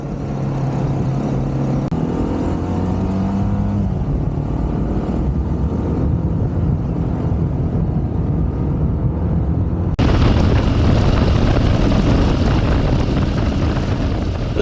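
A Harley-Davidson MT350 motorcycle engine revs hard while riding, its pitch rising and falling through the gears, loud and close. Heavy wind rush sweeps over it and grows louder toward the end.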